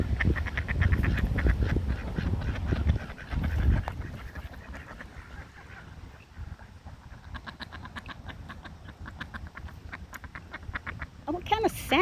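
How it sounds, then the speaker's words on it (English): Ducks quack outdoors on a nature walk, with a cluster of loud quacks up front and a rapid series of quacks later, while people talk nearby. "I thought ducks go quack, quack, quack, quack, quack."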